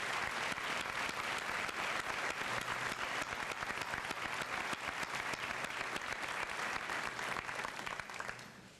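A school senior assembly audience applauds award winners with dense, sustained clapping from many hands. It holds loud and even for several seconds, then thins toward the end.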